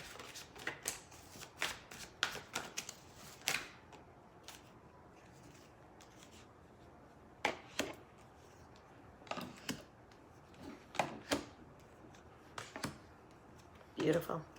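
Tarot cards are shuffled and let fall in a quiet room, producing repeated soft riffling bursts, a rapid cluster at first, then spaced flurries, with faint background sound between them.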